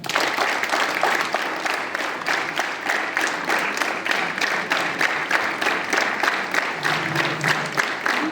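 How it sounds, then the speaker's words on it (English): A school assembly of students clapping together in a dense, sustained burst of applause with a faintly pulsing rhythm, steady and loud throughout. "Clap together."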